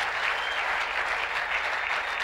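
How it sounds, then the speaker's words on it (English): A church congregation claps steadily and loudly during a Sunday service, a dense, continuous wash of applause from many hands with no break. "Clap for Jesus, clap for Jesus, clap for Jesus."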